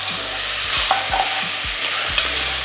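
Mutton pieces frying in oil with salt and pepper, a continuous loud sizzle with occasional scraping stirs of a spoon in the pan.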